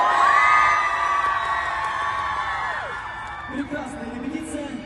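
A large audience at a concert in Yakutsk cheers on cue, with high, sustained shouts and whoops sweeping through the crowd, then trailing off into scattered voices and light clapping.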